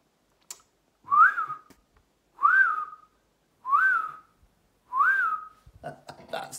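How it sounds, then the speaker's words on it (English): A person whistles to call a horse that has had spine surgery: four clear rising-falling whistles, evenly spaced and fairly loud, with brief faint voice sounds at the end. "He does the whistle and I know what his whistle is."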